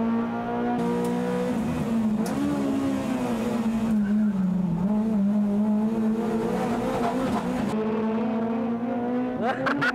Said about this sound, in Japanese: シビックの大輔、ホイールスピンが多いか